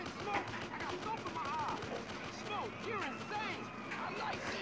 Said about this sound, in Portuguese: Tem um cara que tá atirando em mim.